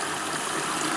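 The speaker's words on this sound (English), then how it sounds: "we can see that the machine is filling on the main wash" A Bosch washing machine filling with water on its main wash, a steady close rushing gush of inflowing water lasting about a second.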